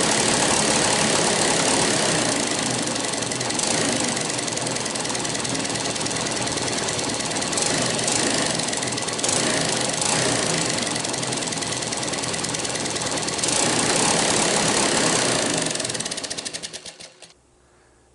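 Running engine with a popping fault through the exhaust and carburetor, a loud continuous rapid knocking idle with irregular pops, sustained throughout before cutting off near the end.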